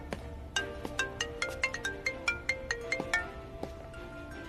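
A mobile phone plays a melodic ringtone of bright, distinct notes in a quick repeating pattern, heard clearly and alone, at a moderate to faint level.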